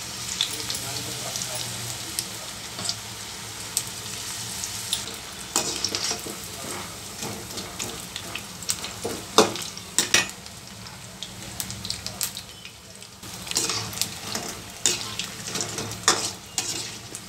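Paneer bondas deep-frying in hot oil give a steady, dense sizzle and bubbling, with occasional clinks and stirring scrapes rising through it; no one speaks.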